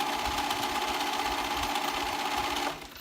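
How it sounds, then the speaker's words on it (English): A serger overlock sewing machine runs fast and steady as it stitches two fabric edges together for a reversible dress, a continuous buzzing whir close up that slows and stops near the end. "So I'm just gonna serge along where I put the two edges together."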